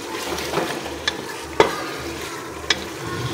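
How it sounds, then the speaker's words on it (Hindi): Garlic and ginger fry with meat for haleem in a hot pot, a close continuous sizzle broken by several sharp spoon clacks and stirring scrapes, with no talking. "तो जी ये देखें लहसुन अदरक भून गए"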